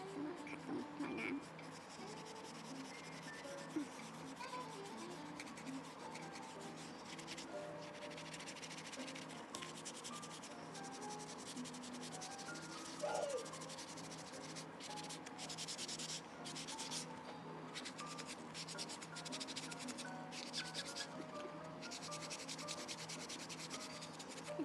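Sponge scrubbing a Louis Vuitton bag, a soft, continuous rubbing and scraping that goes on steadily at close range, fairly quiet.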